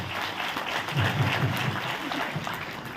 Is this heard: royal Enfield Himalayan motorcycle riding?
no